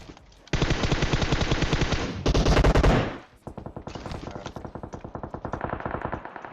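Rapid automatic gunfire from a high-end weapon in the mobile battle royale game PUBG Mobile, loud sustained bursts of dense repeated shots with a brief pause, then continued steady firing.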